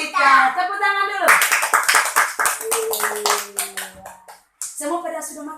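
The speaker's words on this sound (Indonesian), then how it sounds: "Tepuk tangan dulu." Children at a holiday Bible school clap their hands in a quick burst of sharp, rhythmic claps, heard close. Voices speak and chant before and after the clapping.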